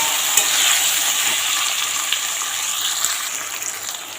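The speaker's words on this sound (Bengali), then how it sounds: "শিমটা বেগুনটা লাল লাল করে ভেজে নেব" Hyacinth beans and eggplant crackle in a hot oiled pan, a continuous near hiss broken by light scraping stirs and small pops for a few seconds.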